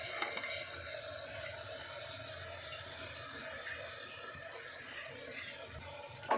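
Mint and coriander leaves fry in a pan with a steady, even sizzle that stays moderately loud and unbroken throughout, with no talking.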